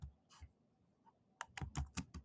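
Keys clatter on a computer keyboard as a math expression is entered: a few isolated taps, then a quick run of close, crisp keystrokes.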